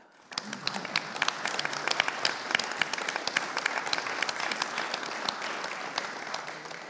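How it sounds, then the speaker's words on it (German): Audience applause at an architecture panel discussion, dense rapid clapping that starts abruptly and stays steady and moderately loud to the end, with a faint voice at the start. "vielleicht einen kleinen Applaus"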